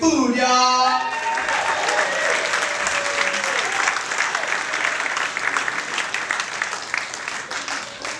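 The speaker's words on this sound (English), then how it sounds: "So give it up big for Andy Mcfood, y'all" Comedy club audience applause at Cobb's Comedy Club as a comedian is introduced, a host's voice fading into loud, sustained clapping from a packed room that continues steadily to the end.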